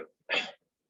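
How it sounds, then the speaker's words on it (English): A single sharp human sneeze bursts out close and loud, brief and explosive, with a short breath just before it and silence after. "Excuse me, I'm going to sneeze again."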